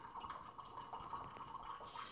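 A faucet opened fully lets water run in a steady, faint, hissing stream that continues without break, and no one speaks.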